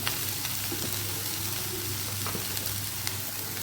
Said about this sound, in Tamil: இப்போ இதெல்லாம் நல்லா வதக்கிக்கலாம்